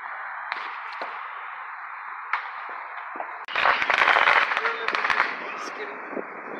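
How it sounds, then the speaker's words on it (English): A burst of rapid crackling and popping July 4th fireworks erupts midway in a park, dense and fairly loud, over a steady hiss of background noise. "fireworks, I'm leaving"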